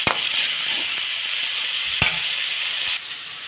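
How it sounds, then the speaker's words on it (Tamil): Pirandai (adamant creeper) sautéing in a pan for a dried-fish kuzhambu, a steady close sizzle with a couple of sharp stirring clacks, no voices. "பிரண்டை நல்லா வதங்கணும்."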